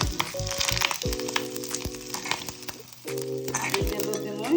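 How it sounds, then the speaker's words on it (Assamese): Tomato and onion frying in hot oil for an Assamese fish dish, a steady close sizzle and crackle running throughout, with background music tones and a couple of louder bursts as the pan hisses. "এতিয়া সেই তেলতে মই বিলাহী আৰু পিঁয়াজখিনি ভৰাই দিম"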